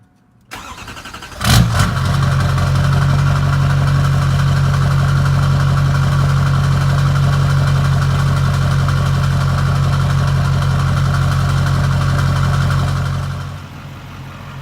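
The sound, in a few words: Duramax truck engine starting and idling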